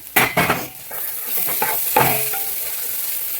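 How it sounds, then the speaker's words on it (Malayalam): Beef fry is stirred in a pan, with a few sharp scraping clatters of a spoon against the metal over a steady close sizzle, with no talking. "നമുക്ക് ഇത് തുറന്നൊന്ന് ഇളക്കി ഇടാം."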